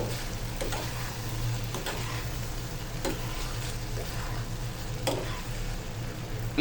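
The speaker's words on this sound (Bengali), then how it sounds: "পাস্তাগুলো পাত্রে দিয়ে দিচ্ছি ভালো করে নাড়াচাড়া দিয়ে মশলাগুলো মাখিয়ে নিচ্ছি" Pasta tossed with spices in a pan, stirred with a spatula: a low continuous sizzle with several soft scraping strokes spaced a second or so apart, fairly close and quiet, with no voices.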